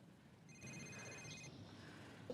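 A telephone rings faintly in a quiet indoor scene, a steady electronic bell tone lasting about a second against low background hiss.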